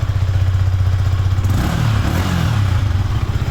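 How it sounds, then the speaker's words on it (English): A Yamaha R15 V4 motorcycle runs close by, its exhaust burbling at a steady idle before the engine note rises in a short blip and settles back, loud and continuous throughout. "So this is how the bike is going to sound."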